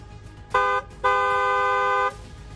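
A vehicle horn honks twice, first a short toot, then a longer steady blast of about a second, loud and close over faint background noise.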